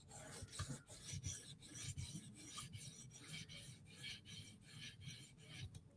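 A Spyderco knife edge is stroked on a sharpening surface to knock down the burr, giving a steady run of quick, close abrasive rasping strokes that sound alone.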